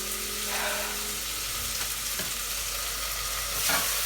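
Onions, ginger and garlic fry in a little oil for a homemade goat curry, a soft steady sizzle punctuated by a few scraping stirs against the pan, close up and with no talking.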